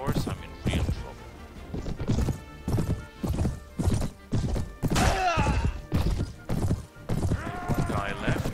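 Horse hooves pound in a rapid, rhythmic gallop during a Mount & Blade battle, with heavy thuds and clops close up and a neigh rising briefly above the din.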